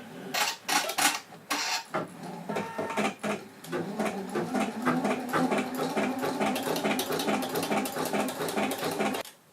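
Pfaff embroidery sewing machine stitching a tea light design, a steady rapid mechanical chatter of needle strokes running continuously and fairly close after a few louder clunks at the start, with no talking.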